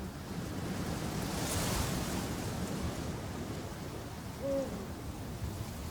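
Eurasian eagle-owl hooting at a coastal wetland roost beside former sea cliffs: a single faint, low hoot rises briefly over steady wind and surf noise near the end.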